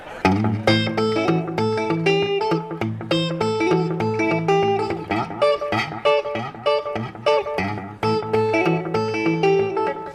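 Rockabilly guitar recording, a bright, fast picked electric guitar line with steady rhythmic plucked notes and backing, loud and continuous throughout without any talking.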